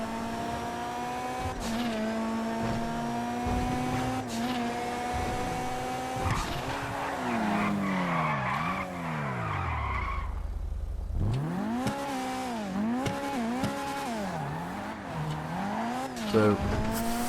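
The fully upgraded Karin Kuruma in GTA races with a revving engine that rises and falls through gear shifts, alongside repeated tire squeals and skids. A brief drop near the middle interrupts the run.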